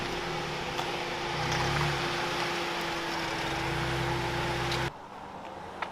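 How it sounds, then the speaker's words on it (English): A Honda sports car with a loud exhaust roars in a steady, close, full-bodied drone, then cuts off abruptly near the end. No one speaks. "Guaranteed she is going to love how loud that exhaust is."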